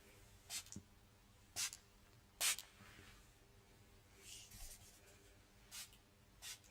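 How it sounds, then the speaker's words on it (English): Several short, sharp spritzes from a spray bottle, spaced irregularly, close and fairly quiet against a soft background hiss. "I want to spray into your energetic field."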